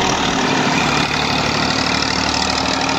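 A tractor engine runs at a steady, loud idle close by, with a continuous low rumble and a constant chugging throb and no pauses.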